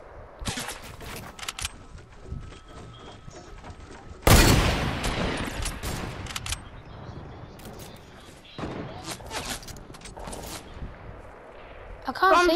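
Fortnite squad match with bursts of gunfire: a loud volley hits hard and then patters on, with scattered shots before and more rapid firing later. It plays out in the middle of a firefight.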